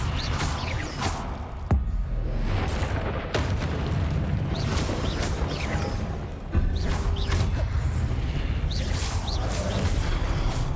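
Confringo explosion spells cast repeatedly in the video game Hogwarts Legacy, a loud dense run of booms, crashes and whooshes with several sharp impacts under continuous game noise.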